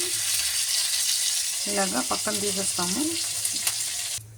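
Fish sizzles steadily in hot oil in a pan, frying for a mustard fish curry, with a brief stretch of voice rising over the crackle partway through.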